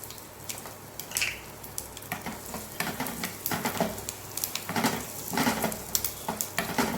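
Urad dal, broken red chilies and asafoetida sauté in hot oil in a pan, giving a close, steady sizzle and crackle over uneven stirring clinks and scrapes.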